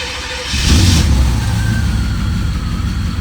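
A Corvette engine with a hot-start fault cranks briefly, then catches and revs up loudly before settling into a steady, rough idle close by.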